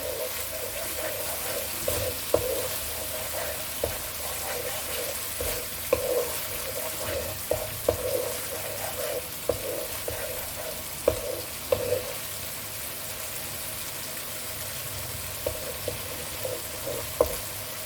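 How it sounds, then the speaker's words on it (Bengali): Spice paste for a vegetarian aloo potol curry sizzles and fries steadily in oil in a pan, with occasional scraping stirs and soft clicks throughout, close and continuous with no talking. "তেল ছেড়ে দিয়েছে প্রায়, মশলাটা কষানো হয়ে গেছে"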